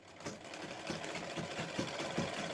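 A sewing machine stitches fabric for a blouse-piece project, giving a soft, steady mechanical whir with a faint rhythmic thump at each stitch cycle, close up and heard on its own.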